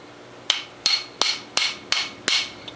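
A hammer striking a metal hydraulic line on a John Deere Cub Cadet to flatten it, six sharp ringing blows at an even pace, each loud and clear with a short metallic ring-out.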